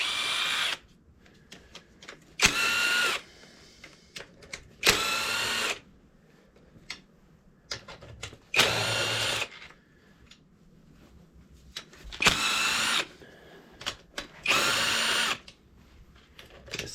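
A power drill spins out the half-inch sump bolts of a Briggs V-twin engine, giving about six short, loud, close whirring bursts separated by quiet pauses and small clinks.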